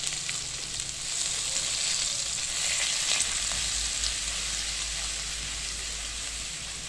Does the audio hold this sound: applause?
no